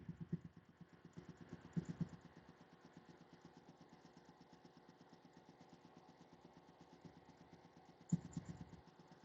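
A 2002 Komori HR3-6 Champion air compressor runs steadily, its motor thumping in a fast, regular pulse throughout, with a couple of louder surges near the start and end and no talking.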